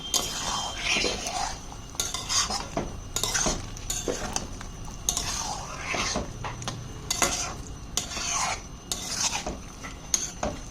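Fried soybean chunks are tossed into masala in a pan for soya korma, and a metal spatula scrapes and clatters against the pan in repeated rhythmic strokes, close and fairly loud, with light sizzling underneath.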